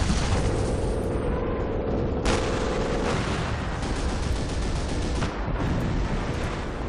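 Airstrike explosions rumble through a Company of Heroes battle, a dense, continuous wall of booming blasts and gunfire with sharp new impacts landing partway through, loud and close throughout.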